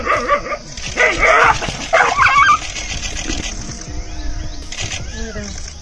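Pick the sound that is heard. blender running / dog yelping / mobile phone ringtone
dog yelping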